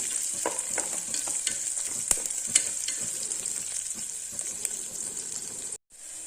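Onions sautéing in a pan for a vegetable kurma give a steady, close sizzle with scattered crackles and the scrape of stirring, then a short drop to near silence near the end.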